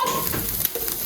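Minced keema frying in a pan, a soft steady sizzle and crackle with faint stirring scrapes, continuous and close, no voices over it.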